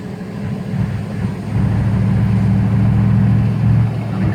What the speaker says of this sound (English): even under pretty good acceleration, it's not real noisy